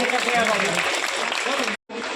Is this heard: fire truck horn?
no